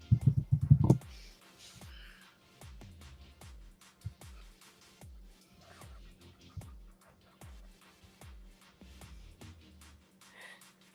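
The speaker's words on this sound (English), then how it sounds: "Why is she typing so loud?" Someone types hard and loud on a computer keyboard indoors, a run of sharp, irregular key clicks at a steady pace, fairly faint and close, with no voices over it.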